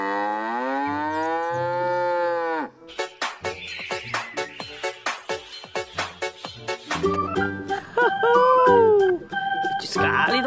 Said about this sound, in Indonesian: Wih, sapi.